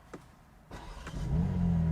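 BMW M4 Competition engine firing up from the start-stop button, a sharp starter crank followed by the exhaust catching into a loud, steady idle rumble that swells and holds, close by.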